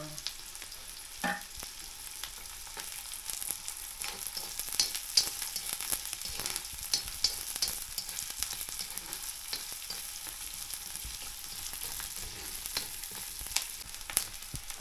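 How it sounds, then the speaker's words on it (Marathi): Onion and green chili fry in a pan, giving a steady, close sizzle that holds throughout with occasional stirring scrapes, and no voices over it. "कांदा आणि मिरची पण टाकल्या आता दादा."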